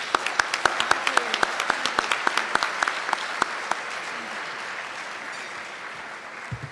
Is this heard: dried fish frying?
no